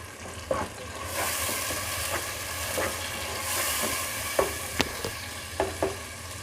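Tomato paste is stirred into minced meat frying in a pan, giving a steady sizzle with scraping stir strokes and a few clinks of the utensil.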